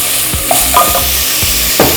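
Six or seven small sambar onions sauté in a pan, a loud close sizzle broken by quick scraping stirs of a spatula, with no one speaking.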